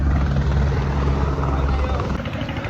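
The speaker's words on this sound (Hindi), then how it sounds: "हमारे लिए हेलीकॉप्टर खड़ी है।" A helicopter at the Kedarnath helipad in the Himalayas runs loud and close, its heavy low rotor thump and engine roar holding steady throughout with no pauses.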